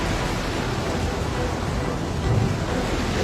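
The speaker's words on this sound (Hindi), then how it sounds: "मैं जानता हूँ ये भयंकर तूफान मेरी वजह से तुम पे आया है" A stormy sea, heard as a dense, unbroken roar of crashing waves and wind that runs loud and steady throughout.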